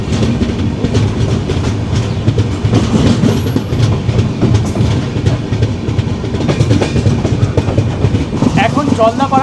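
Kanchankanya Express train pulling out of Madarihat station: a steady, loud rumble of rolling coaches with rhythmic clickety-clack of wheels over rail joints throughout, heard from inside the moving train.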